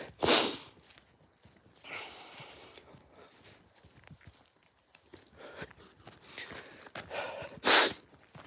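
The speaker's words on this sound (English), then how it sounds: "sniffing away as well now" On a chilly morning walk outdoors, a person with a slight cold sniffs several times in short, breathy bursts, with faint footsteps and quiet gaps between them.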